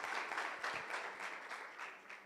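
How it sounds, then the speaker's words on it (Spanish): An audience applauding a guest doctor after his talk at a university event, a dense steady wash of clapping that holds for a couple of seconds at moderate level. "Démosles un fuerte aplauso al doctor Olague por su participación."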